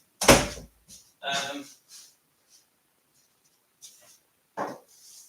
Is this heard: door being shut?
yes